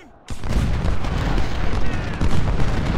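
Booming cannon fire from a Civil War battle in the strategy game Ultimate General: Civil War, Union side at Brock Road, starting after a brief quiet moment and then a dense, continuous rumble of loud overlapping blasts.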